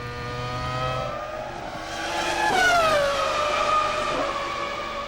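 Mika Hakkinen's McLaren Formula 1 car during qualifying at the 2000 Australian Grand Prix, a loud high-pitched engine scream that swells as it approaches and drops in pitch as it passes, then fades, with no talking.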